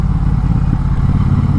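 A 2022 Triumph Bonneville Bobber motorcycle rumbles loud and close while riding, a deep steady pulsing engine note with a slight change partway through as a gear shifts.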